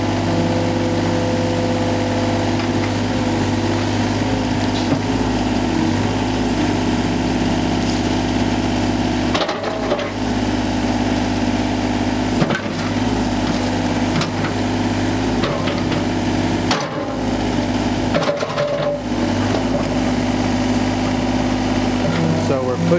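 A machine with a bucket and blade pushes dirt up into a berm for a homestead shooting range, its engine droning steadily and loud throughout with brief dips and clanks as it works, while a person talks over it.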